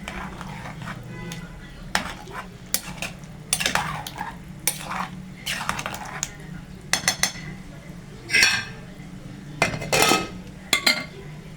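Chicken with spices and garlic gets stirred in a pan: a spoon scrapes and clinks against the metal in irregular strokes over a low background hum, with louder clatters near the end.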